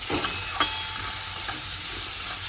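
Onion and tomato fry and get stirred in a pan for a bitter gourd (karela) chutney, a steady soft sizzle broken by a few sharp scraping stir strokes, close and alone with no talk.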